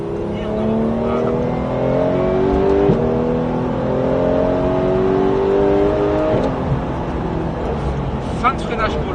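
A car on the Haute Saintonge race circuit braking hard, downshifting and then accelerating, its engine note falling and rising steadily and close up, with an instructor talking over it throughout.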